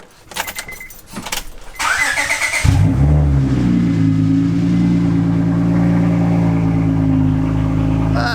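A Honda Accord widebody project car starts up with a sharp burst and then settles into a loud, steady idle that rumbles on unbroken.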